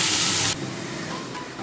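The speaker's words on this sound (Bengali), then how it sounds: "এটাকে ভাজতে দেব।" Spiced potato with salt and turmeric hits a hot pan with a loud burst of hiss, then settles into a steady, softer sizzle.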